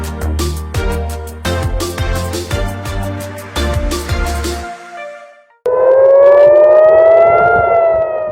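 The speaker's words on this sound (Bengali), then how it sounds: "হঠাৎ ঘুম ভাঙে সাইরেনের বিকট আওয়াজে।" An air-raid civil defense siren wails loudly over Tel Aviv in its last few seconds, a rising and sustained tone. Before it comes a stretch of rhythmic, tonal musical hits.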